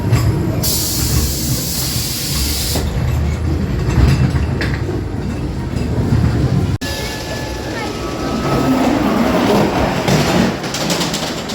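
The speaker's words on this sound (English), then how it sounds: "That was the Ghost Train." A ghost train ride car at Blackpool Pleasure Beach rattles and clanks along a track with ratcheting mechanical noise, loud bursts of effects and an abrupt cut midway.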